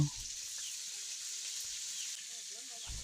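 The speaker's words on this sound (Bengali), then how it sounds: "এখন গরম তেলের ভিতরে পেঁয়াজ ছেড়ে দেওয়া হলো" Onions frying in hot oil in a pan over a village clay stove fired with wood, a steady bright sizzle running throughout with a few soft stirring knocks near the start and end.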